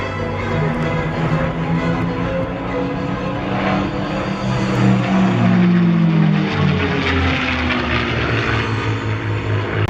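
Propeller airplane engine roaring at full throttle at an air show in Columbus, a steady loud drone with shifting pitch as the aircraft passes, continuous throughout with no speech.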